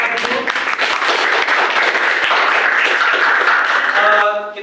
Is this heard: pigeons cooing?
no